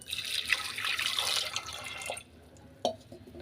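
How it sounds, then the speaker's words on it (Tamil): Water pours into a pressure cooker in a steady splashing stream for about two seconds, then stops, leaving quiet with a single faint clink. "வேகிற அளவுக்கு தண்ணி சேர்த்துக்கிறேன்"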